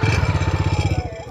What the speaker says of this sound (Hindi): 400 सीसी इंजन का साउंड कैसा होने वाला है डोमिनार का